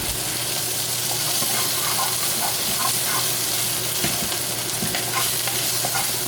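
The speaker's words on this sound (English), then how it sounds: "We're just going to mix them on in." Corned beef hash frying in a pan and being stirred, with a steady close sizzle and scraping, clattering stir strokes running throughout and no voices.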